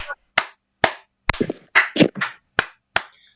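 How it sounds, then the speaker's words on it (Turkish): Applause in a Gartic.io drawing game: about eight separate sharp, close claps and slap-like bursts, some struck singly with gaps and a few bunched into quick flurries, with no talk. "Alp'e buradan alkışları"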